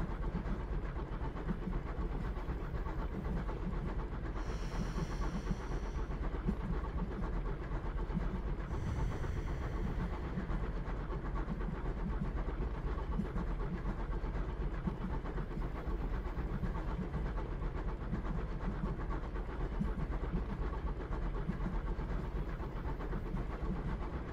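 A train rumbles steadily throughout, with a continuous low roar and two brief high hissing bursts partway through.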